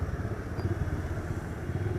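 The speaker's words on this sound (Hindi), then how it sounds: "बहुत मज़ा आ रहा है बाइक चलाने में" A motorcycle, freshly serviced with the chain slack adjusted and handlebar bearings replaced, rumbles along during a ride, with a steady, low engine drone that stays fairly quiet and even throughout.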